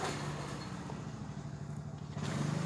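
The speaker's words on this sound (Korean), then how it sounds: "오토바이가 엄청 시끄럽게 지나가네요" A motorcycle roars past close by on a street, a loud steady engine drone that fills the whole moment and swells again toward the end.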